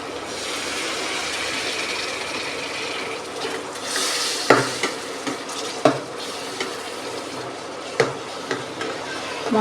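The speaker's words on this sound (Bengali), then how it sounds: "মশলাটাকে কষি নেব" Turmeric, chili, coriander and cumin masala sizzles in a pan with a splash of water, cooked down for a chicken and potato curry. A continuous close hiss runs under several sharp, irregular clacks of a spatula against the pan.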